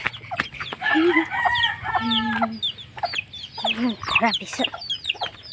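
Chickens cluck and a rooster crows nearby, with repeated calls over a low background hum; a person speaks briefly.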